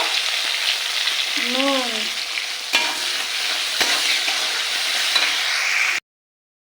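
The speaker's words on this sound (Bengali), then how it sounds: "টমেটো কুচিটা একটু ভাজা ভাজা করে নিই" Chopped tomatoes fry with onions in a hot pan, giving a steady, close sizzle with stirring scrapes throughout. A voice speaks briefly over it before it cuts off.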